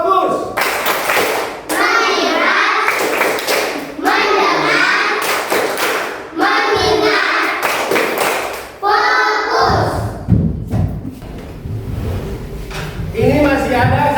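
Schoolchildren in a classroom perform a chanted clap pattern, group voices alternating with bursts of rhythmic clapping and thumps, repeated in several loud rounds close by.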